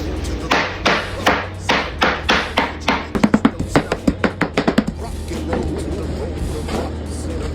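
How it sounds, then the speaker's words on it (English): Spinach chopped with a knife on a cutting board: a run of sharp, rhythmic thuds that speeds into a quick flurry of close, crisp taps, then stops, leaving quiet kitchen room tone. "I got some spinach here, y'all. Now I'm just gonna chop up."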